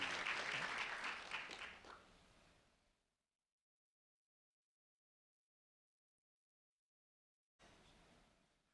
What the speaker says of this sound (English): a round of applause for Dakota Hammonds, please.